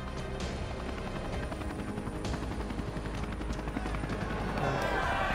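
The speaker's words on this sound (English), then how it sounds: "this chopper can't take all of these people" Helicopter rotor chop from the video game Dead Island: Riptide, a steady rhythmic thumping that holds throughout at moderate loudness, with faint scattered game noise behind it.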